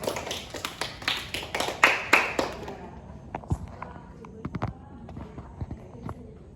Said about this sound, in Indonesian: Tepuk tangan dulu dong buat Kak Zara.